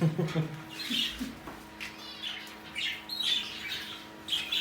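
Indian bulbuls, kept indoors, squawk and chirp in a few sharp, scattered calls, close by, with small pauses between them and faint background noise.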